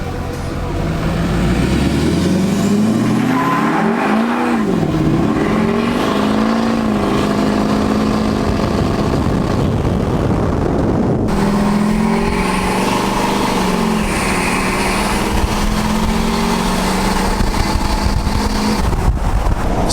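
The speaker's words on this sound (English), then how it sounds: "Sounds super loud. This truck has a axle dump exhaust." A deleted LML Duramax diesel pickup with an axle dump exhaust pulls hard under acceleration, its loud engine drone rising and shifting through gears continuously at close range, with a brief voice in the mix.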